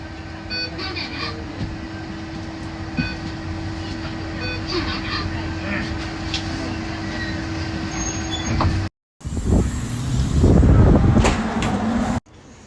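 Traffic pulling into a Beijing public bus terminal, with a steady engine rumble and tonal whine that cut briefly, then a louder burst of what sounds like air brakes or a door near the end. People talk underneath.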